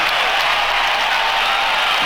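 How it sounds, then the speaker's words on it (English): A basketball arena crowd roars and applauds after a narrow 114 to 112 Seattle SuperSonics win, a dense, loud, continuous wash of cheering and clapping throughout. "And listen to this crowd."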